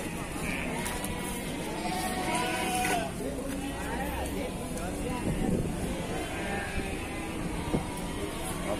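Goats bleat at a livestock market in cold, rainy weather, several calls rising from a busy crowd while people talk nearby throughout.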